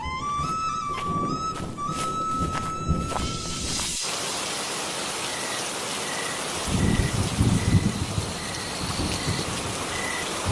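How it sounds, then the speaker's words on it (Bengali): Heavy rain pours steadily and loudly in a dense, continuous hiss, with low rumbles swelling partway through, after a brief stretch of tonal music at the start. "দেখলে তো আবার কি জোরে বৃষ্টি শুরু হলো"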